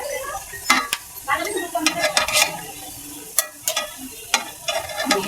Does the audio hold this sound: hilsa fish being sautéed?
yes